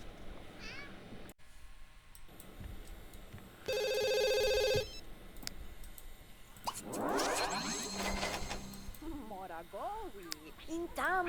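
A telephone rings in The Sims 2 video game, one steady, bright ringing burst lasting about a second, set among other game sounds, a cat-like meow and voices.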